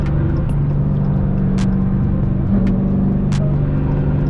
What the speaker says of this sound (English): See, I'm gonna shift it up to fifth.